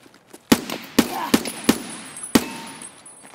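Gunshots in the video game Escape from Tarkov: five sharp, loud reports spread irregularly over about two seconds, each with a short echoing tail, with no talk.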